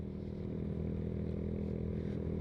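Yamaha Mio Sporty scooter fitted with an aftermarket VND exhaust, idling with a steady, low, throaty engine hum that holds close and constant throughout.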